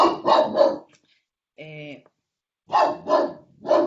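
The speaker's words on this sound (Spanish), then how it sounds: "lo siento por mi perro" A pet dog barks indoors in quick clusters of sharp, loud barks with a short whine between them, while a person speaks over it.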